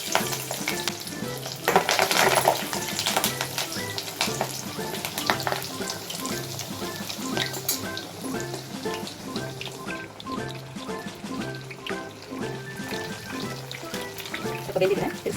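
Fish kabab pieces fry in hot oil on a tava with a loud, continuous, crackling sizzle that stays close and busy throughout.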